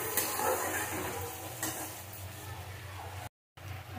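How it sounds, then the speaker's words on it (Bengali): Spice masala sautéed in a pan for a hilsa curry with taro, a faint, even frying hiss with a couple of soft scrapes, cut by a brief dropout near the end. "ভালো করে আমি মশলাটাকে কষিয়ে দেবো।"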